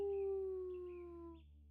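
Drawn-out howl of people imitating wolves during a cozy farming game stream, a single sustained tone slowly falling in pitch and fading over under two seconds, fairly close and alone.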